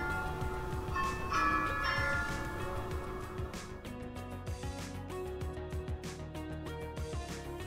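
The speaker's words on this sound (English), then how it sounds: "this is in fact the sound of bells" Bells ring with overlapping metallic tones and repeated strikes, sounding fairly faint and distant against a dense background.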